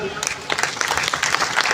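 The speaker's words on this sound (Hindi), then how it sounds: "तो उनके लिए एक बार जोरदार तालियां।" An audience at an LIC Karnal division Independence Day and honours event breaks into steady, dense applause after a short quiet start, filling the rest of the moment with close, busy clapping.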